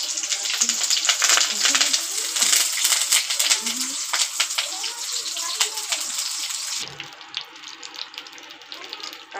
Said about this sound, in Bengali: তেল গরম হয়ে গেছে, ফোড়নে দিচ্ছি কালো জিরে, দুটো চেরা কাঁচা লঙ্কা আর দিচ্ছি কারি পাতা